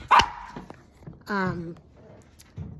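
A dog barks in a few sharp, loud, close bursts spaced across a couple of seconds, with softer yips between them in a quiet indoor room.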